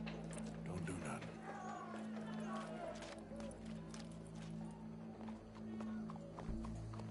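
Horse hooves clip-clop with an occasional whinny in Red Dead Redemption 2, set over a steady low game soundscape with speech layered across much of the clip.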